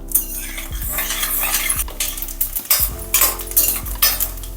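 Mustard seeds, chana dal, urad dal and peanuts crackle and sizzle in hot oil over a medium flame while a metal spoon repeatedly scrapes and clinks against the pan, close and busy with no talking.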